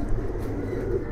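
Giribaz pigeons from an old lineage coo softly and low, a brief murmuring drone close by with no talk over it.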